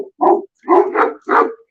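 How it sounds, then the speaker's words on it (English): Dogs at a rescue facility in Colorado barking, three loud close woofs with short gaps between them, one rolling into a quick double bark, with no talking. "And don't mind the barking, everybody, because the show's about dogs."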